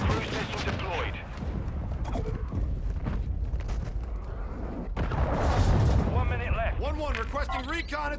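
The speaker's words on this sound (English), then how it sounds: "Friendly cruise missile deployed." A cruise missile strike in Call of Duty Modern Warfare II: rumbling explosions and heavy impacts build to a loud, booming swell midway, with radio-style voices talking over the battle noise.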